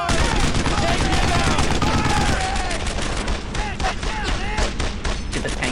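Gunfire in the Brothers In Arms: Earned in Blood war game, dense bursts of rifle and machine-gun shots cracking loudly and nearly without pause, with shouted voices over the battle.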